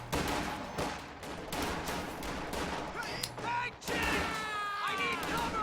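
Machine guns and a .50 cal fighting pit trade fire in a Company of Heroes 2 match, with dense bursts of gunfire and explosions mixed with battle effects, while a commentator's voice runs over the action.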